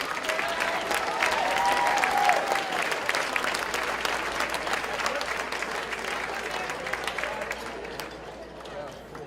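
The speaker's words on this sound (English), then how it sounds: "Give them a round of applause." A gala audience applauds honorees for several seconds, with steady dense clapping that slowly fades, a low hum of crowd noise underneath, and voices in the background.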